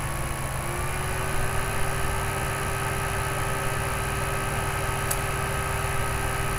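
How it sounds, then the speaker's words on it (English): A constant mechanical whir drones without pause, a close laptop cooling fan humming steadily with a faint high whine layered on top; no voices. "that jet engine sound you're hearing is my fan in my laptop"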